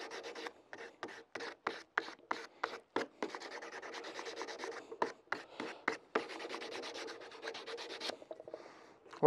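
A hand rasp scrapes a wooden nunchaku in a quiet workshop, with a series of close, gritty strokes in short bursts, some quick and clustered, others longer, separated by brief pauses.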